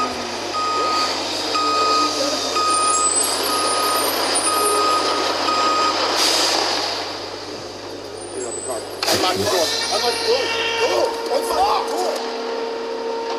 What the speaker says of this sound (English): Run over the rubbish truck.